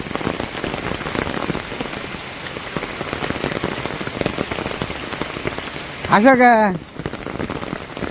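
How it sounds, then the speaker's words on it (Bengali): Rain falls steadily in a village, a dense close patter on surfaces throughout, with a short burst of speech near the end. "কেমন লাগে বৃষ্টি?"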